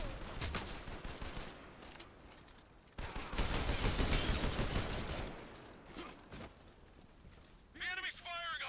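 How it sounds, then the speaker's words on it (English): Enemy gunfire erupts in Metal Gear Solid Delta. Scattered shots and mechanical clatter build into a loud, dense automatic volley midway, then thin out into sporadic bursts, with game sound effects layered throughout. "The enemy's firing on me."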